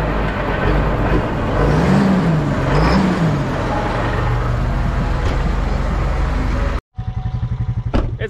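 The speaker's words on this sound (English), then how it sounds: "this tractor sounds good, I forgot" A tractor engine runs steadily and loud nearby, with a constant low mechanical drone and a slight rise and fall in pitch, before a brief break and a rougher rhythmic chugging at the very end.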